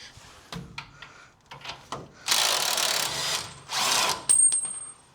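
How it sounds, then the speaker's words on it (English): A power tool whirs in several bursts of a few seconds each, loud and close, while loosening a panhard bar on an 8-inch Ford rear end under a roadster, with metallic clanks between bursts. "Let's get some power tools."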